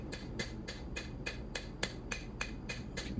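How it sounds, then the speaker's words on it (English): Hammer forging the back of a skinning knife blade made from leaf spring steel, a steady series of about a dozen sharp metallic strikes at an even, quick rhythm, close and alone. "Started forging on the back side."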